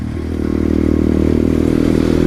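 A small pit bike engine idles and drones steadily nearby, a low buzzing motor with faint rattling, holding at a constant loud level.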